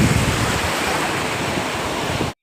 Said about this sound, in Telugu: ఇంకా పెద్ద పెద్దగా వస్తున్నాయండి అలలు చాలా పెద్దగా వస్తున్నాయి